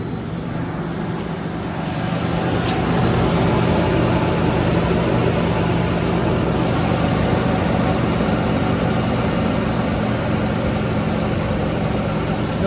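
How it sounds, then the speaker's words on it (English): A 1995 4.9L straight-six engine turns over and settles into a steady idle, a loud continuous low rumble with a slight swell in the first seconds and no talk over it. "All right, now we're gonna start it up."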